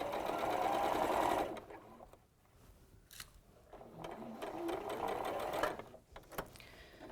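A sewing machine stitches quilt sashing in quick bursts, loud and close at first, then quieter with pauses and renewed runs of stitching.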